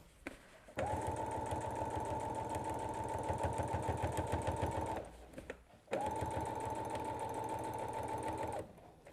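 A sewing machine stitches rows on a lap quilt, running in a steady whirring, rapid-ticking hum for about four seconds, stopping briefly, then starting again for another long run, close and clear.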